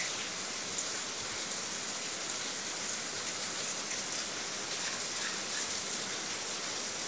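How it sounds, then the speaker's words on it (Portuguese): Heavy rain pours in a Minecraft world, a dense, even hiss of downpour that stays constant and moderately loud with no other sounds. "Mas aqui tá chovendo muito forte mesmo aqui em casa."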